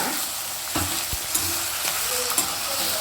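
Chopped capsicum sizzles steadily in hot oil in a pan, a continuous broadband frying hiss with a few brief stirring clanks and scrapes, no talking.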